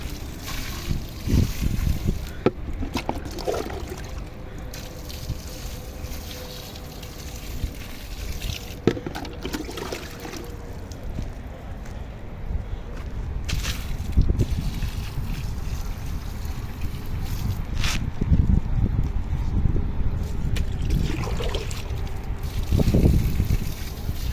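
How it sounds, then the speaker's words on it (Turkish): Water poured onto pepper plants in a garden at night, a continuous rushing splash with fluctuating intensity and occasional knocks, close and fairly loud throughout, with no talk. "Şimdi de buradaki biberlere suyu dökelim."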